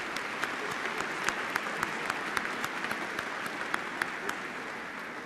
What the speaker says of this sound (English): Please join me in recognizing the contributions of these individuals with your applause.